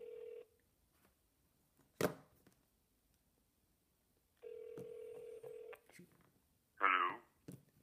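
A phone ringback tone from a Bluetooth Star Trek communicator sounds in two long steady beeps, with a few clicks and brief bursts of noise between them.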